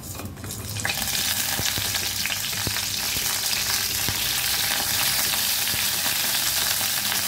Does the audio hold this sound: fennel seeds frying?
yes